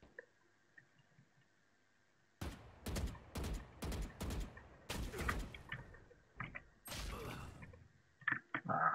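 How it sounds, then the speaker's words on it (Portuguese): Gunfire in the video game Valorant: after a quiet stretch, a rapid string of sharp, separate shots rings out, followed by scattered later shots and clicks against a faint steady tone. "O maluco atira pra caralho, irmão."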